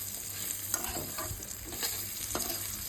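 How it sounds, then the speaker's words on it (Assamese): Dried pork lightly frying in a pan with steady stirring: a soft, continuous sizzle under repeated scraping and stirring strokes, close and fairly quiet, with no talking. "মই এনেদৰে অকণমান গৰম কৰি লওঁ ইমানো ভজা নাযায় যে জ্বলি যোৱাকৈ অকণমান ভাজি লওঁ"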